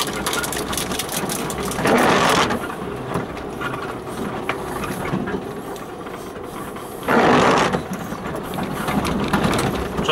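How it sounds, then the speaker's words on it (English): Steady rain drums on a car while it drives on a North Wales lane in four-wheel drive, a constant broadband wash with two louder gusts of spatter, and no voices. "Oh sorry, it's raining."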